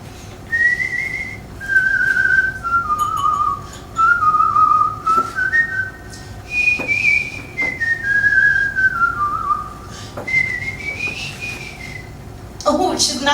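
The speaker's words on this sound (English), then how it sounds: "So maybe I'll whistle a little bit of that." A performer whistles a self-written tune, a clear melodic line gliding up and down in short phrases with brief pauses, close and alone over faint room ambience.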